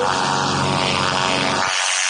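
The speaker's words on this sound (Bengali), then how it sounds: "চলো প্লেন আমার স্টার্ট হয়ে গেছে। এখন প্লেন উঠে," An in-game airplane engine in the Indian Bike 3D video game drones loudly and steadily at close range, a dense continuous roar that cuts off sharply near the end, with no voices.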